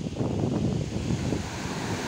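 Large waves crash at high tide on Damas beach in Karanggandu, Watulimo, Trenggalek, with a strong wind buffeting the microphone in a rough, continuous roar and no voices.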